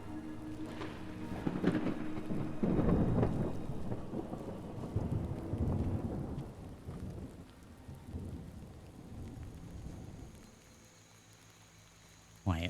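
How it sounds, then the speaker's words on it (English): Thunder rolls through a rainstorm in a Fallout game world, heavy rumbling swells early and fades into steady rainfall, with a sharp burst at the very end. "It's still raining."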